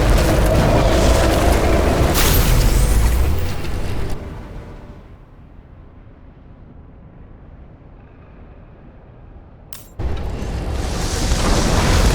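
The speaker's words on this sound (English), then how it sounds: "Someone flooded the transformer and it caught fire. Cable acted like a fuse. That's what caused the explosion." A transformer explodes and burns in the video game Nobody Wants to Die, with a loud rumbling blast that lasts several seconds, fades to a low hum, then surges back into heavy roaring noise.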